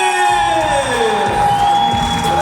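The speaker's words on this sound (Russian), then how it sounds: "Ну что ж, аплодисменты!" A graduation-party crowd roars with cheering and whoops, loud and continuous over a steady backdrop of music at a school leavers' evening.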